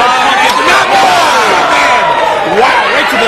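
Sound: wrestling chop to the throat

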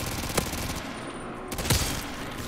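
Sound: gunfire from a rapid-firing gun in Modern Warfare 3 Zombies video game

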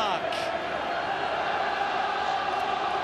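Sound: stadium crowd cheering at Craven Park rugby match

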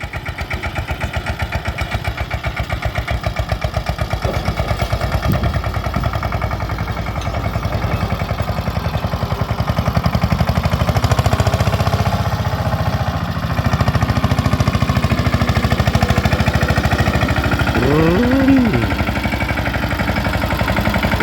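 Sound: tractor engine running

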